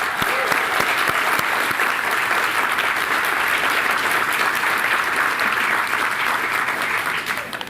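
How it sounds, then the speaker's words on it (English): An audience at a groundbreaking ceremony breaks into applause, a loud, dense, continuous clapping from a sizable crowd that stays steady throughout and eases slightly at the very end. "Friends, another round of applause for Dick."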